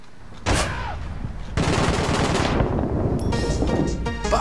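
Sustained automatic bursts of Tommy gun fire in the APB Reloaded shooter game, loud and continuous with overlapping gunfire and a brief break in the middle, no talk.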